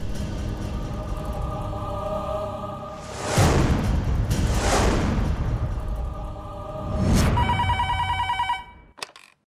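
A telephone bell rings in repeated long trills, loud and close, with a brief higher electronic tone before it cuts off.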